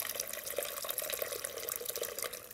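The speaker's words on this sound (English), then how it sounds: "So that was just about a liter of water I put in there." About a liter of water pours steadily into a cooking pot for a sarsaparilla beer brew, a continuous splashing stream at close range with no talking.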